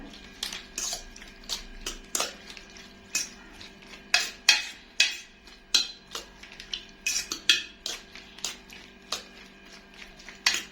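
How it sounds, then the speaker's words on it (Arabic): A utensil scrapes and clinks against a frying pan while shrimp seasoned with salt and cumin are stirred, giving a series of close, irregular metallic taps and scrapes with no talk. "هقلب الجمبري بتاعي بالطريقه دي اهو"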